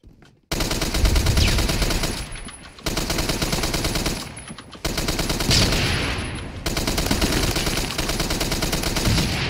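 Video game gunfire fired through walls, delivered as four long sustained bursts of rapid automatic shots, loud and close, separated by brief silent gaps.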